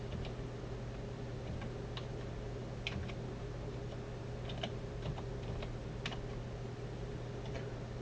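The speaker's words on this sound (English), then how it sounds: "We'll type in VP Forum." Soft, irregular keystrokes tap on a computer keyboard in a quiet room, with scattered single clicks and short bursts and no talking.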